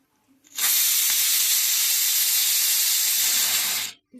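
A pressure cooker cooking dal for varan lets out one loud, sharp steam whistle hiss lasting a few seconds, starting abruptly and cutting off just as suddenly.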